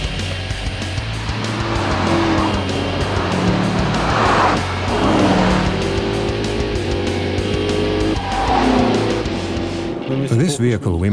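Mercedes-Benz SLS AMG driving at speed on the hot Nardo test track, a steady loud engine drone with tire and wind noise that swells and fades as it passes, with talking over it and an abrupt drop near the end.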